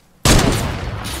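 A single loud gunshot in the video game Fortnite, sudden and close after a moment of silence, with a long noisy tail that fades slowly and no talking over it.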